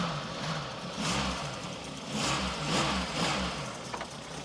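A Volkswagen Golf Mk1 GTI with a 2.0 engine idles steadily, and its throttle is blipped several times, each quick rev swelling and dropping back to idle.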